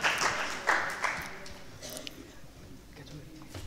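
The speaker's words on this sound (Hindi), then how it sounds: "जोरदार तालियां बजाकर आदरणीय विशिष्ट अतिथि का स्वागत करें" Brief applause from an audience welcoming a distinguished guest at a Hindi religious study gathering, a burst of clapping at the start that quickly fades to sparse scattered claps and quiet room noise.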